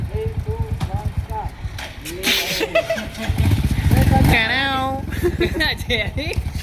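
A Royal Enfield Hunter 350 motorcycle engine revs and pulls away, its pitch rising and falling through gear changes, with people talking loudly over it throughout.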